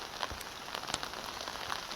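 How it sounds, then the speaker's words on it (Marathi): Heavy rain pours steadily during a flood in the Konkan region, a dense even hiss of drops on surfaces with faint scattered splatters, quiet and continuous with no voices. "आतासुद्धा पाऊस खूप पडत आहे कालपासून हा पाऊस पडतच आहे"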